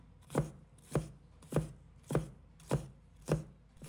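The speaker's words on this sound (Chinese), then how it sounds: "再准备适量的红辣椒，把它切成小粒" A knife chops red chili peppers into small pieces on a cutting board for a home-style water spinach and fermented black bean dish, giving seven evenly spaced, crisp, close thuds with no talk.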